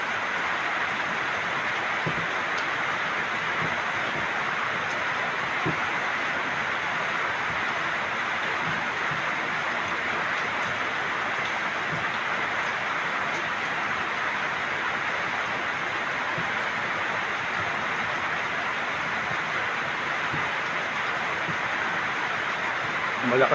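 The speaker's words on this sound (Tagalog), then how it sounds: "Ngayon po malakas na ulan." Heavy rain pours steadily outside a house terrace, a dense, unbroken hiss that stays loud and even throughout with no pauses.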